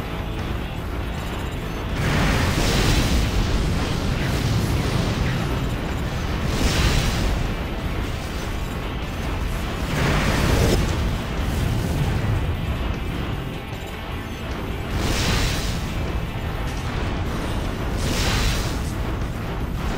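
Repeated heavy booms of video game cannon fire in Armored Core: for Answer at intervals of a few seconds, each a loud blast over a constant rumbling background.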